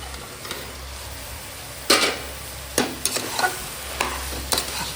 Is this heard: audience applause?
no